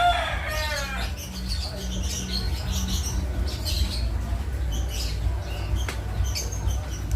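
Baby Lutino cockatiels chirp and squeak during hand feeding, with high begging calls and scratchy tweets over a low steady hum, close and fairly soft, with faint voices in the background.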